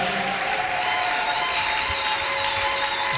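A church congregation applauds in steady, dense clapping that fills the room, continuous and loud throughout, with faint voices mixed in.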